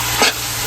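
Food frying in a pan over a provincial cooking fire gets a single quick stir, one short scrape over a steady background sizzle.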